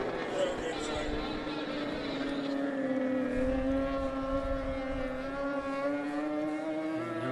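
Four-cylinder racing powerboat engine at a river race near Defiance, Ohio, with a continuous buzzing drone whose pitch slowly rises and falls as the boat rounds the course at a distance.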